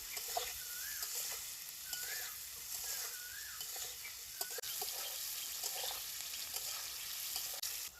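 Vegetable stalks fried in a pan with black cumin, salt and turmeric sizzle steadily at close range, with a utensil stirring and scraping now and then, and no voices.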